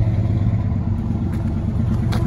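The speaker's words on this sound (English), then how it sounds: "you just got a wicked nice sound to it going down the road. Dual exhaust" A 1966 Chevrolet Impala with dual exhaust rumbles steadily with its engine running, a loud, continuous low throb close by without any speech.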